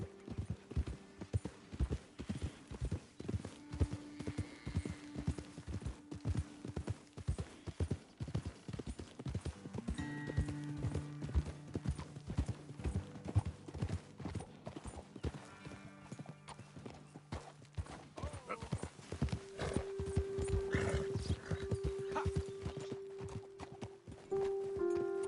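Horse hooves clip-clop in a steady, continuous rhythm for a long stretch in Red Dead Redemption 2, with occasional short tones and a low ambient hum beneath.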